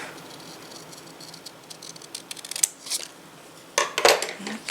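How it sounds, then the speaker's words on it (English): Scissors cut paper for Valentine-themed ephemera, giving soft crisp snips and rustling that grow louder in short bursts toward the end, close by and quiet overall. "now I'm just going to cut it right on the center"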